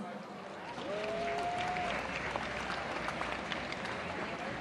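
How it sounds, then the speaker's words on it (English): Crowd applause for cultural troupes at the Hornbill Festival arena in Nagaland, a fairly faint, distant and even patter of clapping rising after a brief voice and holding steady to the end. "Shall we give all the cultural troops an encouraging round of applause?"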